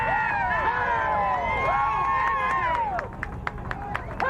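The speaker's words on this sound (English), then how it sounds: "And you're hearing crowd reaction, people certainly cheering." A crowd on a rooftop cheers and whoops after a building implosion, overlapping high excited voices and shouts, followed by scattered claps, loud and close, with a person talking over it.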